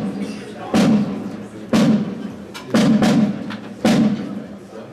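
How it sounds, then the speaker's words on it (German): Ceremonial honour-salute gunfire for the Swiss Federal President 2015 booms as four loud, heavy reports spaced about a second apart, each trailing into a rumbling tail, with voices around them. "Zum Ehrensalut ein Schuss."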